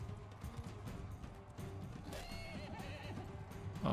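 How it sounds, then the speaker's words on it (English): Horse neighing in the Mount & Blade II: Bannerlord video game, a faint whinny amid game ambience, hoofbeats and battle noise, fairly quiet and distant. "that's a horse then"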